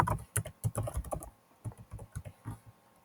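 Quick bursts of keystrokes on a computer keyboard as a name is typed in, close and crisp, with a brief pause midway and no voices.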